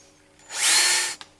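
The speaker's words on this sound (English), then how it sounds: "You can then cut the indicator hole using anything from a 12mm to a 20mm cutter" A power drill with a 15mm cutter bores an indicator hole, a single loud burst of high whirring cutting that rises quickly, holds for about half a second, then stops with a brief click.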